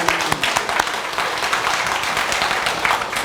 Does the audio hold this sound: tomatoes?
no